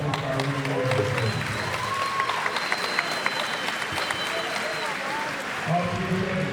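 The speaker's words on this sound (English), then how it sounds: "How about a well-deserved round of applause for both our winning warriors?" Crowd applause for the two winning fighters after a combat-sport bout, a sustained wash of clapping filling the hall with scattered cheers, while a voice talks over it.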